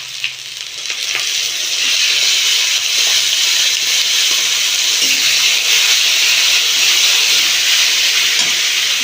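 Tomato paste goes into a hot pan of spiced oil while egg curry cooks, giving a loud, steady sizzle and hiss that swells after the first second and holds without a break.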